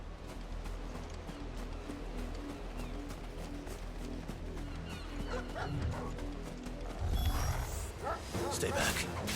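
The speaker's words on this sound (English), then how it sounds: "Oh, the wolf! It's going to eat me!" A wolf in the Final Fantasy XVI video game growls and barks in short bursts amid game music and mechanical effects, with someone talking over it and a louder rush of action near the end.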